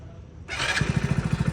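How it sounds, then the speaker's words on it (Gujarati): A motorcycle engine catches and then chugs in a quick even rhythm of low pulses, close and fairly loud, ridden for the first time by a beginner, with no talk over it. "પહેલી વાર બાઈક ચલાવે છે"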